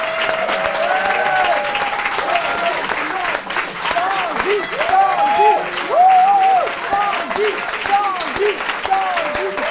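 A studio audience at a French TV talent-show broadcast applauds steadily to decide the winner, dense sustained clapping with cheers and whistles on top and a few voices calling out over it.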